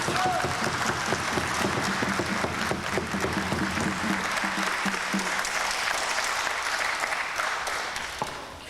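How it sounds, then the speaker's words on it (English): Lecture audience gives young people a big round of applause, dense continuous clapping that fills the room, with a voice briefly heard early on, tapering slightly at the end. "Give them a bigger round of applause."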